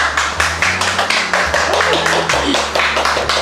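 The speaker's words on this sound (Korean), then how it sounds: "여러분 박수 한번 해주세요" Sharp rhythmic audience claps repeat steadily, close and loud, over a low sustained hum, with occasional voices in the background.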